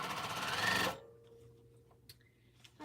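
A sewing machine runs in a fast, steady burst while stitching quilt pieces together, loud for about a second and then stopping abruptly, leaving a quiet room with a few faint taps.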